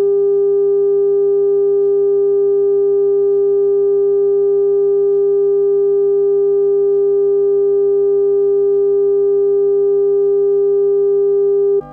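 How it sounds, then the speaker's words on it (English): Raw variable-reluctance signal from the capstan speed sensor of a Revox A700 tape recorder, a steady loud pure tone with faint harmonics and a low underlying 50-cycle hum, unchanging for the whole stretch and cut off abruptly at the end. "First up is the raw VR signal."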